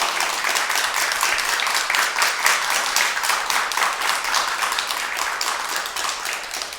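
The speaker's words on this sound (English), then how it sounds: "Let's clap." An audience claps loudly and evenly after a children's poem reading at a poetry anniversary event, the dense applause continuing for several seconds with individual claps standing out.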